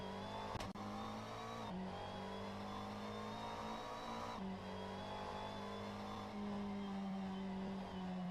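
GT3 race car engine in a racing game on an out lap warming its tires, a steady sustained drone with a few shifts in pitch and brief revving changes, held at an even level throughout.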